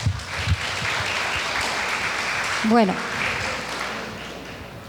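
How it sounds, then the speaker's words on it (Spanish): A congregation at a Sunday church service applauds, a broad steady clapping that carries on for several seconds before a single voice speaks briefly over it. "Un fuerte aplauso para Adrianita."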